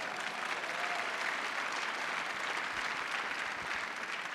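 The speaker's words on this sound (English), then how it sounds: "That deserves a round of applause" A large audience at the Space Symposium applauds steadily, a dense, even wash of clapping that holds at a constant level throughout without breaks.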